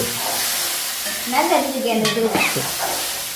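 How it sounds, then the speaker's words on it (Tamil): Ingredients sauté in a pan with a steady sizzle, while stirring scrapes and clatters through the middle of the clip, fairly close and moderately loud. "எல்லாம் சேர்ந்து கொஞ்ச நேரம் வதங்கும்."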